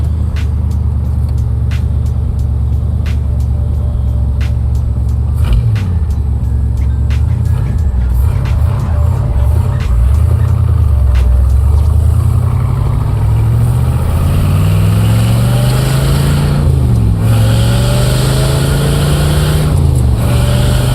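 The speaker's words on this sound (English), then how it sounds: "I'm pretty sure you just want to hear the motor" A 1967 Corvette convertible with a 427 engine runs loud and close, its deep rumble rising and falling through repeated revs and swells over about twenty seconds, with no talking.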